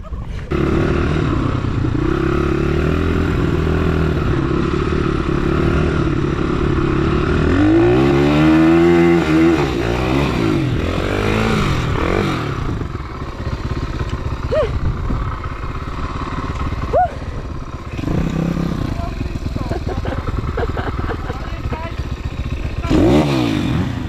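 Dirt bikes, a Yamaha YZ 250 and Kawasaki KXF 250, climb gravel pit slopes, two-stroke and four-stroke engines revving hard and rising and falling in pitch, close then fading, with people talking in between.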